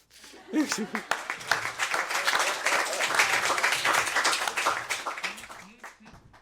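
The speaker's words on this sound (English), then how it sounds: "that was a great clap for Spyder" Audience clapping for Spyder, a steady burst of applause lasting several seconds with voices talking and cheering over it before it thins out at the end.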